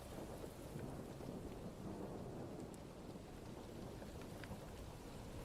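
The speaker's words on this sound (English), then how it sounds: "It's nice and quiet here. It's a rainy day." Steady rain falls on a quiet, closed-up building on a rainy day, a dense even wash of drops with low rumbling thunder blended underneath, constant throughout with no voices.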